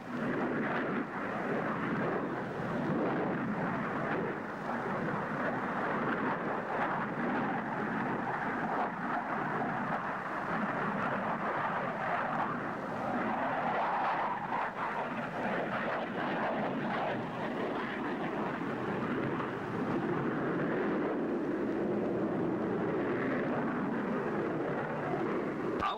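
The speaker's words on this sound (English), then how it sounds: "And now, pure power unleashed. The Lightning Interceptor. Pilots of the Royal Air Force's No. 92 Squadron show the might of their 20-ton fighters in the air." English Electric Lightning interceptor jets of the Royal Air Force's No. 92 Squadron roar through a flying display, a steady, heavy jet rumble that stays loud and continuous throughout with no voices.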